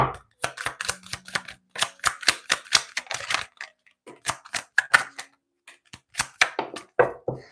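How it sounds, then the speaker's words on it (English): Stiff tarot cards are shuffled by hand, producing bursts of sharp, rapid riffling clicks in uneven clusters with brief pauses between them, close and fairly loud, with no talking. "These cards are so hard to shuffle."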